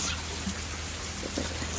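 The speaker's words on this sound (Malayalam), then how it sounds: "രാവിലെ നല്ല മഴ." Steady morning rain falling outside a hotel room in Ooty, a dense even hiss of drops without pauses, fairly close and constant throughout.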